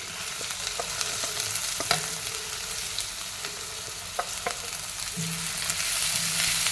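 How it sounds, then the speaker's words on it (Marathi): Finely chopped onion frying in two spoons of oil in a kadhai: a loud, even sizzle close by, dotted with occasional clicks and scrapes of a stirring spoon, growing slightly stronger toward the end. "कढईत मी दोन चमचे तेल घेतलेत आता त्यात आपण बारीक चिरून घेतलेला एक कांदा घालूया"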